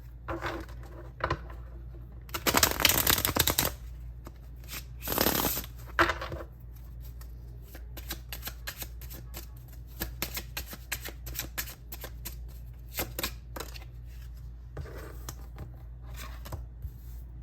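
Tarot cards shuffled by hand during a card reading: two loud riffling bursts early on, then many lighter flicks and taps of cards being cut and handled, close up over a low steady hum.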